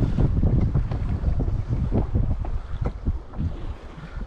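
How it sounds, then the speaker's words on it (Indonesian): Wind gusts across open water during kayak fishing, a loud, buffeting rumble hitting the microphone in uneven surges with no voices. "Angin dah start pick up"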